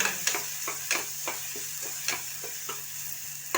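Chicken sizzling as it fries in a pot, with a spoon scraping and stirring in repeated soft strokes over a steady quiet hiss, close by and without talk.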